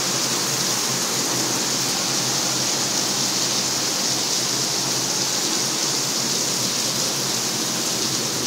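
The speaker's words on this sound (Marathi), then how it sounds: "कोकणात पाऊस बघा, भरपूर असा पाऊस आहे" Heavy, continuous monsoon rain in Konkan gives a dense, even roar of falling water with no pauses, loud and close, and nothing else is heard.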